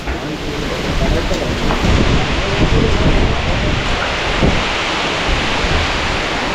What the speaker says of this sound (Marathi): पाऊस आला पाऊस आला